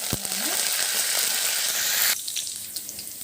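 Finely chopped ginger sizzles in hot tempering oil, a loud crackling hiss that starts abruptly and holds steady, then drops off sharply to a quieter fizz.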